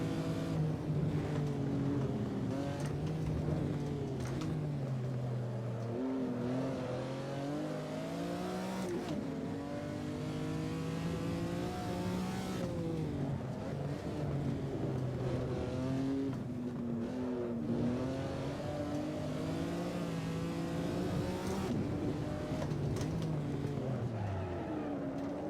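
A 1970s Trans Am race car at Sonoma Raceway revs hard through its gears, the engine note repeatedly climbing and dropping as it shifts, loud and close throughout with no talking.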